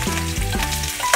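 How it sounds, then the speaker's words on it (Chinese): Scallion, ginger and garlic crackle and sizzle in hot oil in a wok, a loud close hiss with quick stirring scrapes and a few low thuds. "葱姜蒜炸锅"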